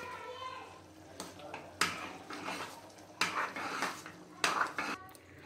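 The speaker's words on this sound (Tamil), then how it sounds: "போட்டுட்டு மீ இன்னும் கொஞ்சம் குழம்பு ஊற்றி கிண்டிக்கலாம்." A spoon clanks and scrapes in a cooking pot, stirring sambar rice with added gravy. Several distinct metallic knocks sound up close, with faint background voices between them.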